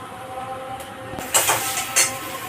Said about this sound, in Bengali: রসুন, চালা রসুন আছে, শুকনো লঙ্কা, কালো জিরে, এটা তেলের মধ্যে দিয়ে দেবো